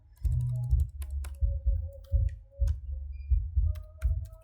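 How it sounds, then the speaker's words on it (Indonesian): A computer keyboard is typed on during a basic router configuration lab. Close, dull keystroke thumps come in short irregular bursts, alone and fairly loud. "Oke, sini kita ketik aja dulu."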